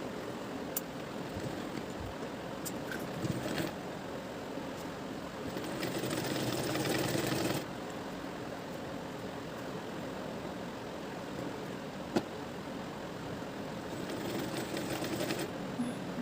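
A sewing machine stitches the fabric of a baby girl's flower-style designer skirt in short runs, its hum swelling for a couple of seconds at a time between quieter pauses.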